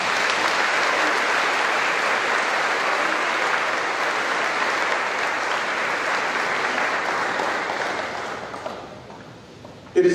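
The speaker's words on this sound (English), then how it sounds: "Let's give one more round of applause" A high school awards audience for the class of 2021 at Byron Nelson High School gives a dense, sustained round of applause for a graduate, holding strong for several seconds before thinning out and dying away.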